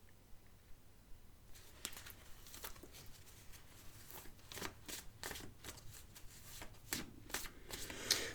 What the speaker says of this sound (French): Allez, on va mettre des cartes. On coupe.